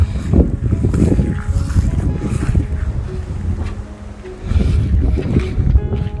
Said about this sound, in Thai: พูดแข่งกับลม